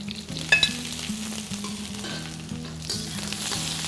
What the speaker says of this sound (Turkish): Hepsini bir kavuruyoruz ki kararma yapmasın diye.